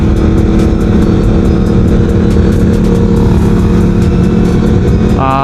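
A Yamaha YZF-R1 motorcycle rides along with its engine droning loud and close at a steady pace, with continuous rumble and wind noise throughout.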